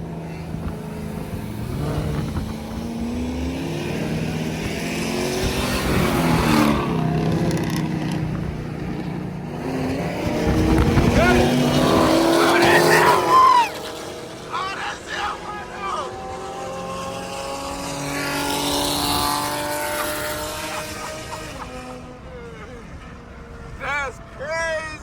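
A Chevrolet Camaro ZL1 and a Dodge Hellcat race through traffic, their engines droning and surging in rising and falling revs, while people talk and shout excitedly nearby.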